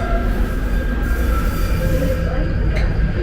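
London Underground train standing at a platform on the Central and Northern lines, a loud continuous low rumble and hum with a steady tonal whine, heard close up inside the station.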